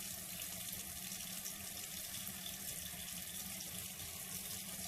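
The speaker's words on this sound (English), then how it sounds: "And wash your face again." Water runs steadily from a tap into a sink while someone washes their face, a constant close hiss with no breaks and no talking.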